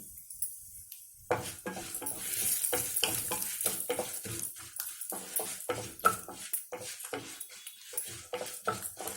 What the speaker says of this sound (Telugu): జీడిపప్పు, ఈ పప్పులన్నీ కొంచెం బ్రౌన్ కలర్గా వేయితే బాగుంటుంది.